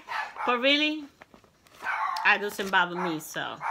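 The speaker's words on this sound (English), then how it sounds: "Excuse my dog, he's always had to make an appearance." A pet dog barks and yips in short bursts indoors, close to the microphone, with someone talking over and between the barks.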